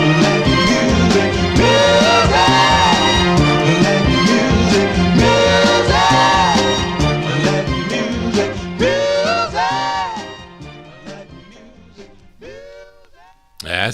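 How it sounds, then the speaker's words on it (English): The Festivals' 1966 soul 45 "Music" plays from vinyl on the Smash label, a full band and vocals loud and steady before the song fades out toward the end. "That's the sound of the Festivals here on the All 60s edition"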